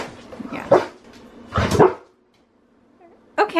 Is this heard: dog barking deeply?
yes